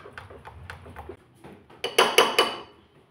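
Semolina batter for sujir pua pitha being beaten by hand in a bowl, producing soft rhythmic tapping strokes followed by several louder, sharper clinks of the utensil against the bowl near the end.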